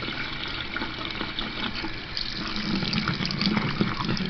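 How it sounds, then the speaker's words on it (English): Tap water runs continuously into a sink while soap is rinsed out of a brush, a steady close splashing rush with small shifts in spatter as the brush moves under the stream. "the water is not running clear yet"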